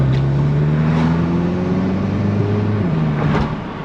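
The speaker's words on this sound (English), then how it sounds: "let's see how smooth the car is" A tuned VW MK7 GTI drives along with a steady engine drone heard from inside the car, its pitch easing and shifting slightly as it cruises. No one talks.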